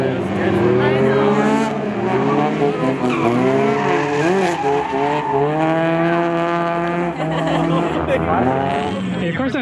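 At a drift party car meet, a drift car's engine wails through shifting revs while its tires squeal and skid, loud and continuous, with a voice talking underneath.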